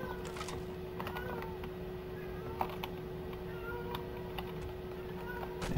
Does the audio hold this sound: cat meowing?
yes